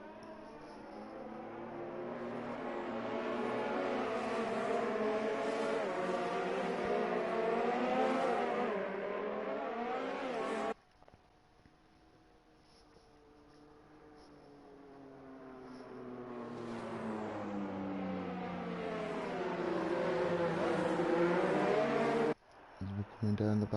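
An F1 Academy race car on a slow out lap in a racing video game, its engine revving up through the gears in rising whines, cutting off abruptly on a downshift before climbing again, loud and close.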